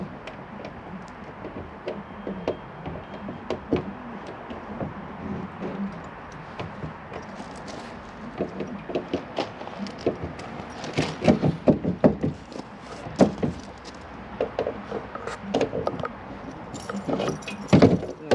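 A bunch of keys jingles and rattles while a storage locker on a 2008 Auto Trail Tracker EKS motorhome is unlocked, with scattered metallic clinks and taps that grow busier and louder toward the end.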